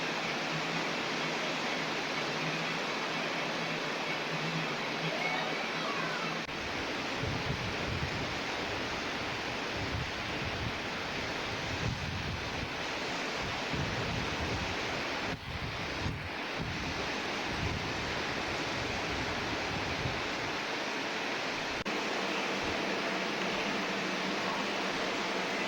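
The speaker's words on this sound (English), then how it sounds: "Waves roll slowly toward shore." Ocean surf at a busy Virginia Beach shoreline, a steady broad wash of rolling waves with wind noise on the microphone, continuous and fairly loud, no voices.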